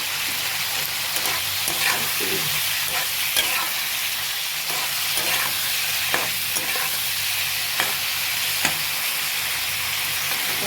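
Ground coriander and cumin powder sizzle steadily in a hot pan of oil while a utensil scrapes and stirs in scattered clicks, a continuous close frying hiss with no talk.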